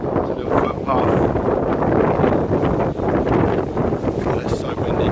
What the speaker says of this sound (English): Oh, it's so windy, guys.